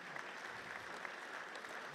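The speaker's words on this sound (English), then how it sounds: "give him a round of applause here" A roomful of people applauds at an auction, a steady, even patter of many hands at moderate distance, fairly soft and uninterrupted.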